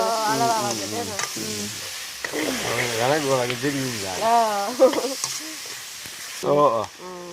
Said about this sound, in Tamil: சரி அப்படியே நாங்கள் தக்காளி பழத்தையும் சேர்ப்போமா